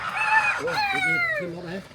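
A bantam chicken at a New Zealand wildlife park gives a short, close run of clucking calls while people talk nearby.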